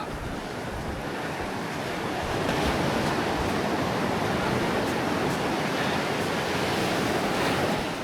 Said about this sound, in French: entre deux vagues